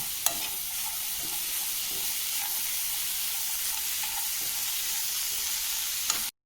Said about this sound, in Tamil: கொஞ்சம் எலுமிச்சை சாறு, எல்லாமே கலந்துடலாம்.